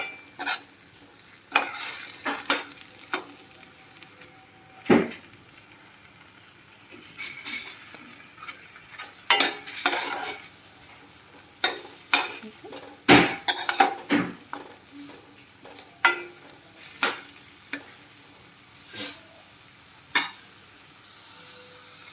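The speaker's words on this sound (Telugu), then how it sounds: "దీంట్లోకి మనం అల్లం వెల్లుల్లి పేస్ట్ని అయితే యాడ్ చేద్దాము వేసి ఇది కూడా పచ్చివాసన అయ్యేంత వరకు బాగా ఫ్రై చేయండి" Ginger garlic paste fries in a pan while a spoon stirs it, producing a low background sizzle broken by repeated sharp scrapes and clinks of metal against the pan, irregular and close. No one speaks.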